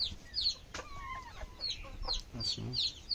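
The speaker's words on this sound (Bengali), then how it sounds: "মুরগিতে পানি খাইতে আছে।" Chickens on a poultry farm cluck and murmur softly while drinking water, several faint clucks and short calls spread across the clip over a quiet background.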